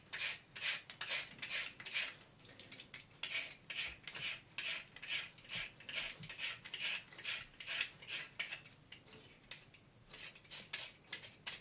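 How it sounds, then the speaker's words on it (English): A flexible-head peeler scraping raw carrots, a steady run of quick rasping strokes repeating in close, even rhythm with no talking over them. "it's quite easy to scrape scrape carrots"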